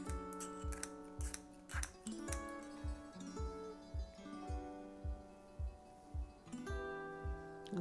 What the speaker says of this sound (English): Take my scissors and just slice it